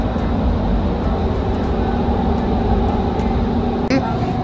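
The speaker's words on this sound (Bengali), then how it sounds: "মেট্রো ড্রাইভার, সাবধানে ট্রেন চালাবেন" A Qatar metro train accelerating, heard from inside the car as a steady, loud, continuous rumble with a sustained hum, running evenly throughout with faint voices in the background.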